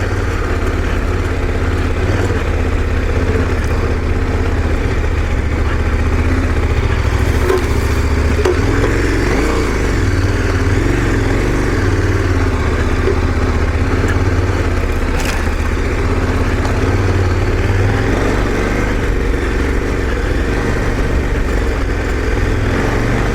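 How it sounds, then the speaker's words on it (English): A KTM 1090 Adventure R motorcycle engine drones steadily throughout at close range while riding through deep sand, its low rumble loud and continuous with slight surges in effort, no voices. "ride in this deep sand on a"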